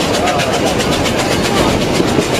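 Puffing Billy steam train moving along the railway, a loud steady rhythmic chuffing and rumbling of the running train, heard close up with voices mixed in.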